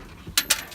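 Debris clanks and falls as carpet is pulled from a 2003 Chevy Silverado 1500, two quick close metallic clinks in rapid succession.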